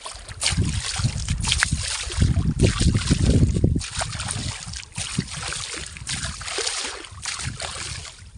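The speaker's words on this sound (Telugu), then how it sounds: "మనమైతే నీళ్ళు కదిలేయాలండి ఇలా" Water in a pond or stream is churned by hand to drive fish, giving continuous loud splashing and sloshing in uneven surges, close by, with outdoor ambience.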